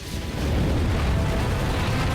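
A sustained, rumbling blast of energy roars continuously with heavy low-end boom, a watchtower ion cannon firing in Ratchet and Clank on PS4, with no voices.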